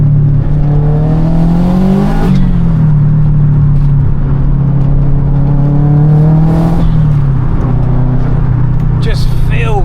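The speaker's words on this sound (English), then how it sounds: "Rev match, second gear." A 500 bhp Subaru estate blips its engine for a rev-matched downshift into second gear, a loud, close, sustained drone that rises and dips in pitch with the throttle.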